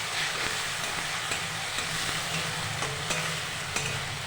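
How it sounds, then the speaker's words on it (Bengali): Chopped tomato with coriander and cumin powder sizzles steadily in a pan for an egg curry, loud and close, with regular scraping stirs of the spoon repeating about every half second. "ভালো করে কষিয়ে নেব।"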